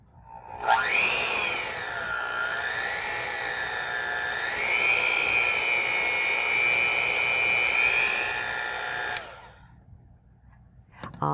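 An electric hand mixer with a smooth-start feature runs alone at close range, giving a steady high whine that rises and holds for about eight seconds before cutting off, followed by faint handling noise.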